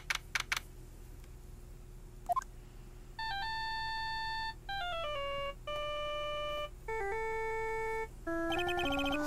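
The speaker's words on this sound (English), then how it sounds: "And I bet it was this ringtone that caused it." Phone ringtone in the game Ace Attorney: Justice for All, a bright electronic melody of sustained beeping tones in short phrases, clear and alone after a few soft clicks.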